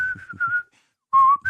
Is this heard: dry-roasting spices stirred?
no